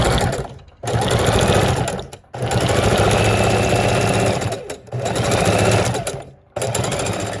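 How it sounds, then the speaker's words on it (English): A sewing machine stitches through fabric and paper layers of a junk journal cover, running in loud steady bursts of whirring stitches with brief pauses between runs. "And sew down."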